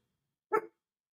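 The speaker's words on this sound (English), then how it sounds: "No, be quiet. No, don't bark." A dog gives one short, quiet bark, close by, alone in otherwise silent surroundings.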